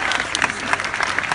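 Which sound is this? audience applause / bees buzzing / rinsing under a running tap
audience applause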